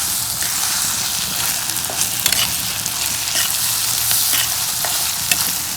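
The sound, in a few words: stirring cauliflower egg fry in a frying pan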